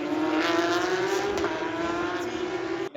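Porsche Supercup race cars roar past continuously at the Belgian F1 Grand Prix, a loud, steady high-pitched engine drone with shifting revs and no talking.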